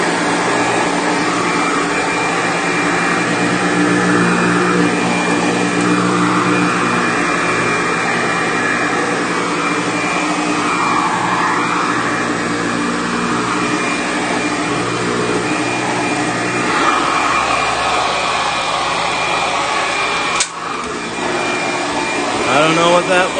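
A vacuum cleaner with a shakeout bag runs continuously and loud with a steady whining drone, briefly dipping near the end with a short thump before resuming; faint talk may sit under the motor.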